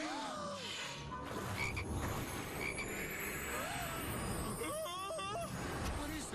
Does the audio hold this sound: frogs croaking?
yes